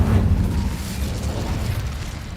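A fire spell bursts in Hogwarts Legacy as a rumbling, crackling whoosh of flame, loud and sustained for a couple of seconds with no talk.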